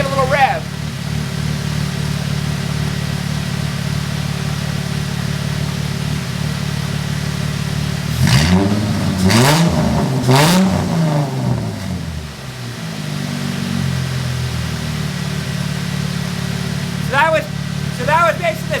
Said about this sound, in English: We're going to give a little rev.